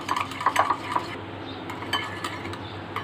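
Yogurt being whisked in a bowl, giving a steady scraping, clinking stir with a few sharper utensil taps against the side, close and alone with no talk.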